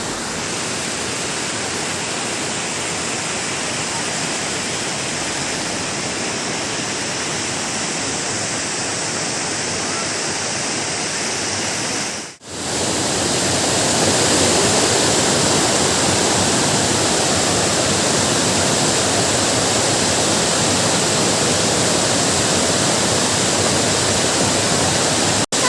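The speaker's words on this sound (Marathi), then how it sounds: "हा किती उंच आहे धबधबा. खूप वरतून पाणी येतं." Sawat Kada waterfall near Rajapur pours from a great height in a loud, continuous, close roar of falling water, with a brief dropout midway and no voices.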